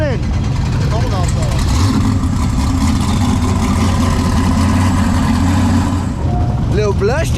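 A car engine idles with a steady, heavy low rumble at a Sick Week 2023 drag racing event at Orlando Speed World, heard close and continuous while voices talk over it outdoors.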